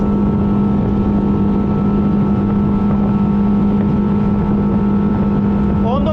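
A motorboat engine drones loudly and steadily at full throttle, with constant wind buffeting throughout.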